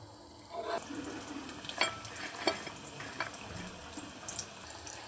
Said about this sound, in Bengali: আমি আবারও একই পদ্ধতিতে বাকি সিঙ্গারাগুলোও এইভাবে ভেজে নেব